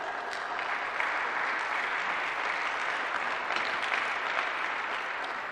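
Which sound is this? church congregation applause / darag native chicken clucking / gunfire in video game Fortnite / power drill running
church congregation applause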